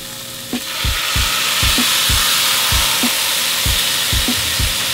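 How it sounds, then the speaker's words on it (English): Peanut sauce stirred into cilantro frying in a hot pan, a steady loud sizzle with a regular rhythm of spoon or spatula scrapes and taps against the pan. "Now we add the peanut sauce."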